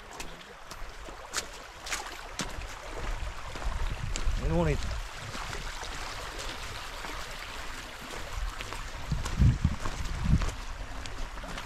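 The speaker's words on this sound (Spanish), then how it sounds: "Este río es precioso, vaya." The Cebollón river flowing, a low continuous murmur of moving water heard nearby, with people talking over it and a few louder rumbling swells.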